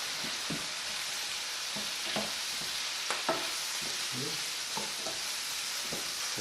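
Flour cooking in a hot pan with a soft, steady sizzle while a spoon scrapes and stirs in irregular strokes, close and continuous with no talk.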